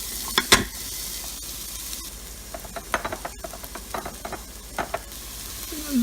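Onions going into hot fat in an Instant Pot for corn chowder, giving a soft steady sizzle with scattered louder crackles and clinks of stirring, close by and fairly quiet, with no talking.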